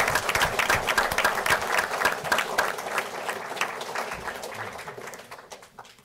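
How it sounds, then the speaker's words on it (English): A room at a township council meeting applauds volunteers: dense, lively clapping from a sizable group that holds steady, then gradually thins and fades out toward the end. "If we could give our Spotlight volunteers one last round of applause for their service to the community."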